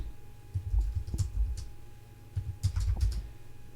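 Code typed on a computer keyboard, irregular bursts of close clicking keystrokes with short pauses between them, fairly quiet and with no talk.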